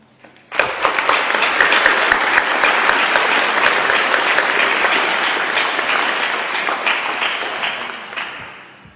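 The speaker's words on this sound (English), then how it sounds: "You rightly share in their success and deserve a round of applause." Audience at a high school graduation ceremony applauds the graduates' families, a dense, sustained round of clapping that starts abruptly, holds steady for several seconds and tapers slightly near the end.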